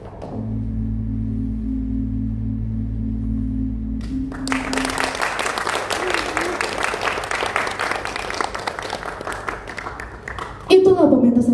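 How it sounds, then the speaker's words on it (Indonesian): An audience applauding after a theatre monologue performance by a school arts group, as a sustained tone gives way at about four seconds to loud, dense clapping that continues, with a voice speaking over it near the end. "Beri tepuk tangannya sekali lagi"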